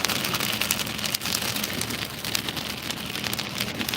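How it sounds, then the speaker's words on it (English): Steady rain patters and drips from ice-coated lines during an ice storm, a dense continuous crackle of drops at close range with no voices. "the rain's just sticking to it and dripping off, making it that much more heavy"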